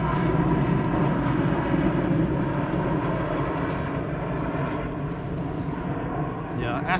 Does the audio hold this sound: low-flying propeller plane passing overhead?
yes